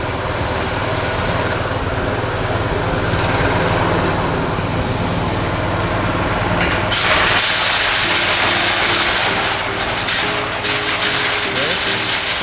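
A petrol engine-driven candlenut (kemiri) processing machine runs loudly and steadily nearby, its droning engine joined by a harsher, brighter rattle of the machinery partway through, while people talk over it.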